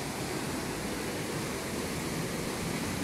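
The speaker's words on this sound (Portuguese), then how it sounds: "Agora é a Cachoeira das Antas por cima." Cachoeira das Antas, a waterfall in a vegetated river valley, gives off a steady, even roar of falling water heard from above, with no voices.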